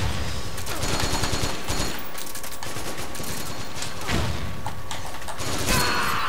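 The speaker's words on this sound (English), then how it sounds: "whoa, nice machine gun." Sustained machine gun fire in the online shooter Metal Gear Online during a 2v2 match, loud rapid bursts with thuds and impacts running through the whole stretch.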